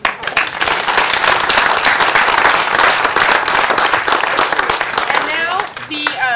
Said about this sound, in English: they deserve an applause too